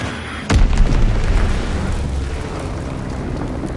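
Bomb explosion in Call of Duty WW2 hits with a sudden deep boom, then rolls into a long, heavy rumbling tail that slowly fades, loud and with no talk.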